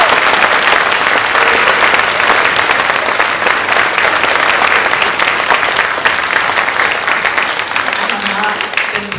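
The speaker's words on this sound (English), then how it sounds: "Can we give one more applause for your band directors in this area?" Sustained audience applause at a high school honor band concert, dense steady clapping from a large crowd filling the hall for about nine seconds, loud and continuous with no pauses.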